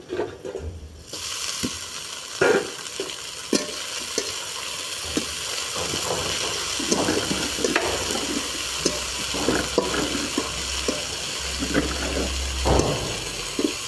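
Kalmi greens (water spinach) frying in a pan over onions, chillies and garlic, a loud, continuous close sizzle broken by repeated scraping stirs of a spatula, with a low hum underneath.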